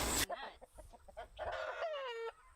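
Cornish cross meat-breed roosters at an animal rescue, a few close, loud clucks and squawky calls in quick succession after a brief noisy burst, with no talk.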